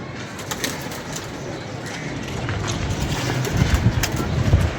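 Pigeons coo in low repeated throaty calls close by, the sound thickening toward the end, with scattered rustles and flutters in the background.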